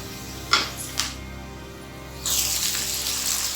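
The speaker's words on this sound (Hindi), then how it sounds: "और थोड़ा सा पानी।" Water pours into a pan of frying mutton masala with cumin, cinnamon, cloves and red chili, a steady splashing rush rising loud in the second half after a couple of sharp clinks and a quiet stretch.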